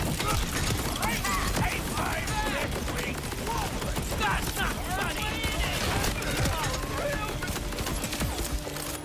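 Cannons firing in Borderlands 4 on PS5, a dense, continuous barrage of rapid gunfire and impacts with layered game effects, loud and busy throughout.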